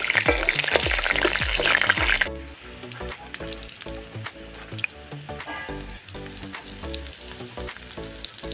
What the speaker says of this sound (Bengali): তেলের মধ্যে দিয়ে দিচ্ছি আদাটা। আদাটা আমি একটু ভেজে নেব।